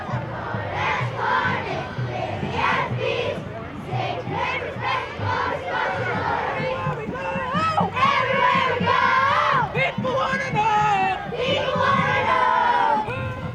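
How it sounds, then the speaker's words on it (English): Groups of schoolchildren chant a cheer in loud rhythmic bursts as they walk through, their voices rising and falling in repeated shouted phrases over a busy, close crowd. "how they all taught them a cheer as they walked through"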